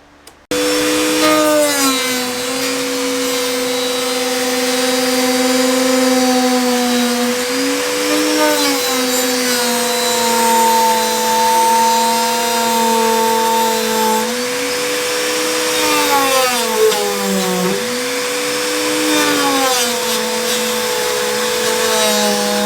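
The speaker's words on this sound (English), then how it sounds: "Got a decent amount of sanding." A power sander whines steadily and loudly for the whole stretch, its pitch dipping and rising as pressure shifts against the wood.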